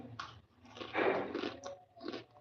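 Crunchy chewing of bhel, a village-style puffed rice snack mixed with cucumber, heard up close: soft irregular crunches and bites, fairly quiet with no talking.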